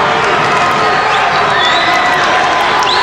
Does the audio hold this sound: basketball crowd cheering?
yes